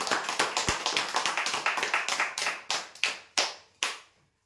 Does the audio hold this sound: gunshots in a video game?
no